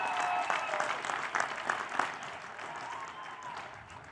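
Commencement audience applause at a university ceremony, a moderate, somewhat distant patter of clapping with scattered louder claps that gradually thins out.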